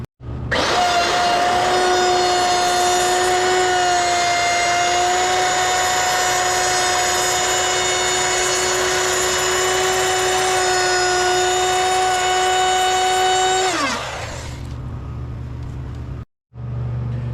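A power tool runs steadily and loudly, tightening bolts on the main braces of a wooden flatbed being built for a GM 1-ton dually pickup, one long continuous whir lasting about thirteen seconds before winding down, followed by quiet shop background.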